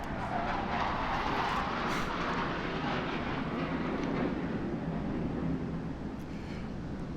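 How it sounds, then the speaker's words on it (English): A fighter jet passes overhead, its broad, steady roar filling the whole stretch at moderate loudness, distant rather than close, with no voices over it. "Another fighter jet going by."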